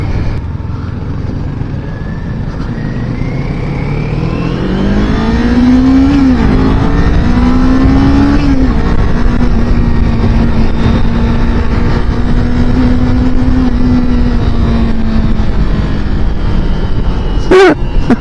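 A 2023 Kawasaki Ninja 400 motorcycle accelerating, the engine note climbing through rising gears and then holding a loud sustained drone under wind noise, ending in a sharp brief burst.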